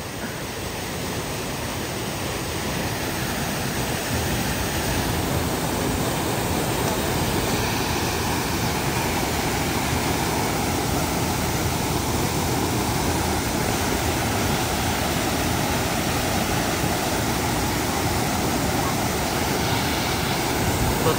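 A strong river current rushes loudly at a popular wading spot, its broad, steady roar of churning water filling the whole stretch without a break.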